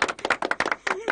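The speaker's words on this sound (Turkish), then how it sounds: "Filiz'e bir moral alkışı hanımlar." Hands clapping in a quick, uneven burst from a small studio audience of women on a Turkish daytime talk show, close and lively, with a faint voice rising briefly near the end.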